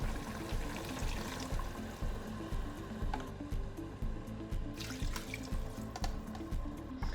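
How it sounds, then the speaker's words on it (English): Beef stock poured from a container into a pot for a pot roast, a steady liquid gush with a rhythmic glugging pulse that runs close and fairly loud throughout, with no talk. "Now add 2 cups of beef stock."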